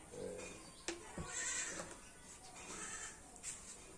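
A baby goat gives a few faint, short bleats, quiet and somewhat distant, with brief pauses between the calls.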